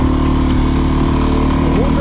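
Loncin LX 300 motorcycle engine turning over at low revs on a road ride, a loud, steady, throbbing drone that runs the whole time without a break.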